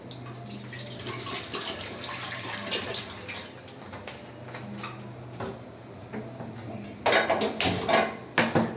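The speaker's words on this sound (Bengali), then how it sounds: "কুকারটাকে বসিয়ে দিলাম, দিয়ে পরিমাণ মতন জল দেব" Water runs steadily into a pressure cooker set on the stove for boiling mutton, a continuous pouring rush that then gives way to louder clanks and splashes of metal near the end.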